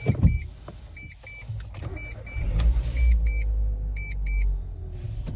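A Mitsubishi Colt automatic with 128,000 km on it starts up: a rising, close engine rumble that settles into a steady idle, with intermittent high electronic beeps and motor whirs from the cabin.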